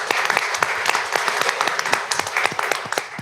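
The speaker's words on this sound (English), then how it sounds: "join me in acknowledging, just with a round of applause, our financial services area" A brief round of applause at a college board of trustees meeting, moderately loud with individual claps standing out from a small group in a room.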